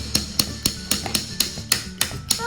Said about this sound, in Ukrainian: Та молоточком треба то все звільняти